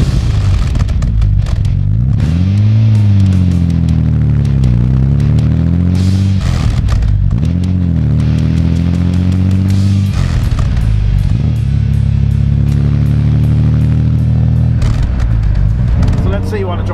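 Aston Martin DB4 engine on the move, a loud, deep throbbing drone rising and falling in pitch through several gear changes, with a voice speaking over it.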